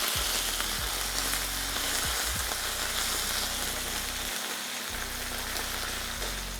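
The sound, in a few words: ginger and garlic frying until golden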